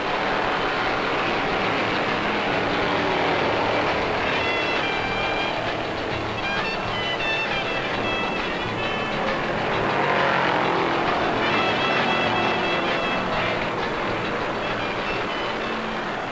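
NASCAR stock cars, including Dodges, race at the 1972 World 600, a dense, continuous engine roar that swells and fades as cars pass, loud and steady with no break.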